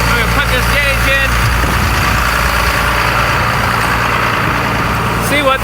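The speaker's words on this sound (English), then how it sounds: "I had the tractor sitting out here running about 20 minutes to get the hydraulics warm." A John Deere 4755 tractor, warmed up after twenty minutes, idles steadily with a loud, constant diesel rumble close by, with a faint voice at the start and end.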